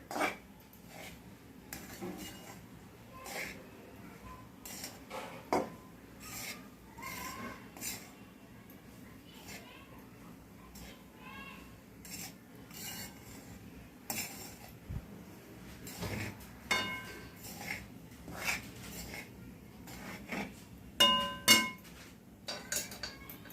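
Coconut and sugar being stirred in a pan for coconut vadi, with scattered metallic clinks and scrapes of a spoon against the pan, fairly quiet and irregular, no talking.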